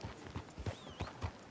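Horse hooves clip-clopping in Red Dead Redemption 2, a steady rhythmic trot of soft, fairly faint hoofbeats on a town street, repeating about every third of a second with no talk.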